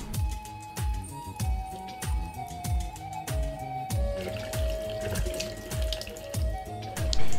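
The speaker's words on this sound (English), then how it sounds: "Clean under running tap water." Crab legs rinsed under a running kitchen tap, water splashing steadily into a sink with repeated knocks and clatters of shells, close and continuous with no talk.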